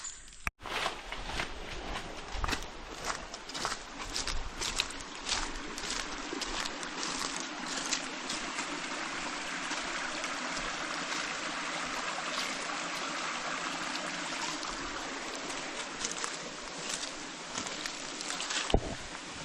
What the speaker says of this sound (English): we've just got a trickle going down here